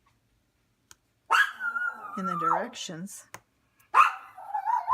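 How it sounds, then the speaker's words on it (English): A pet dog barks and yelps in a couple of bursts close by in a quiet indoor room, with a voice speaking briefly beforehand. "I had to get her to stop barking so much"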